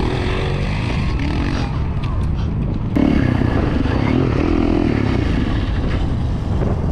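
A dirt bike engine runs on a steep Los Angeles street, a steady gritty rumble close by with a sudden louder burst partway through, sustained to the end.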